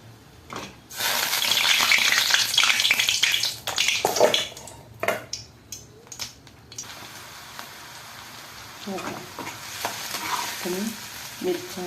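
Green chillies dropped into hot oil with cumin and mustard seeds, a loud burst of sizzling and crackling with stirring scrapes that settles into quieter spitting and popping.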